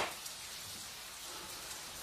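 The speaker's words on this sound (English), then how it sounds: "Oh, it's raining again." Steady rain patters and hisses continuously across a wet surface in a Scottish town, a broad even wash of drops with no voices over it.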